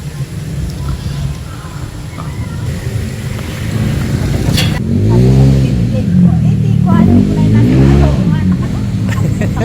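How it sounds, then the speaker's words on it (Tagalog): A Yamaha Aerox V2 scooter engine hums close by on a provincial mountain outing, then revs up in rising sweeps around the middle, with people talking over the motor. "Ito pala ang aking motor."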